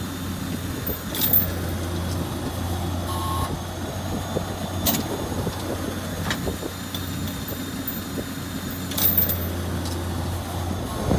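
A Masco street sweeper idles with a steady engine hum as its sweeping head is hydraulically raised and lowered, with a tonal beep and several sharp clanks and knocks scattered over about eleven seconds.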